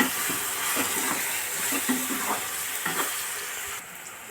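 Food being stirred in a pan after salt and turmeric are added, with a steady sizzling hiss under repeated soft scraping strokes, fairly close and moderately loud.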